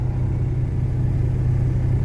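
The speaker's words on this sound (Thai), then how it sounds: "รถติดมากๆเลยครับ ถนนลาดพร้าวนะครับเนาะ" Heavy traffic on Lat Phrao Road, a steady low engine rumble and drone of idling and creeping vehicles, close and continuous for a brief moment, with no talk.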